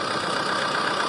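A tractor engine in the Indian Bike Driving 3D game drones steadily at a constant pitch, a loud continuous mid-range rumble heard alone with no talk.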